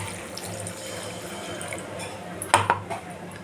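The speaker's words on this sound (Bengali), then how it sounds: "আমি একটু জল দিয়ে দেবো।" Water is poured into a pot of home-cooked curry, a soft steady wash of liquid in a quiet kitchen, broken near the end by a few sharp clinks of metal utensils against the pot.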